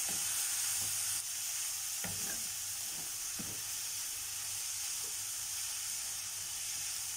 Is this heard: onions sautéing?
yes